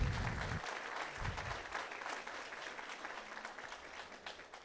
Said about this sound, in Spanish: Un aplauso para el Señor, hermanos